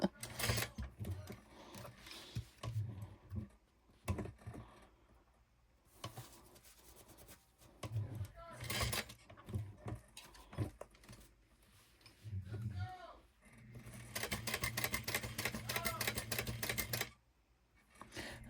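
A sewing machine stitches fabric for a backpack in several bursts of rapid mechanical whirring, the longest near the end, with pauses between where a person talks quietly.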